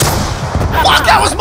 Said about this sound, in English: It's just RPGs going everywhere now.